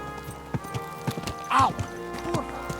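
Horse hooves clip-clop in a medieval setting in Kingdom Come: Deliverance II, a few scattered hoof knocks near at hand, with a voice speaking over them.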